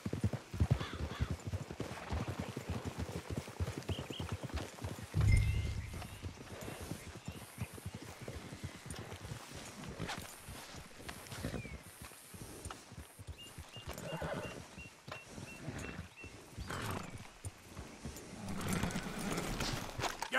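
Horses in Red Dead Redemption 2 clip-clop steadily in a continuous close hoofbeat rhythm, with an occasional whinny standing out amid the game's ambient sounds.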